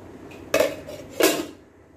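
A metal lid is set over a cooking pot of fish curry with two bright clanks about half a second apart, each ringing briefly before fading, close and clear with no talk.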